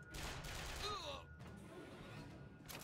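Gunfire from a ghost gun trap in a video game, a dense burst of shots under game noise with a whistling tone near the middle, trailing into a steady rumble.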